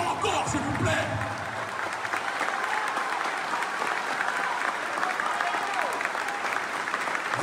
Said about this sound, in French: je vous demande de vous applaudir avec la plus grande puissance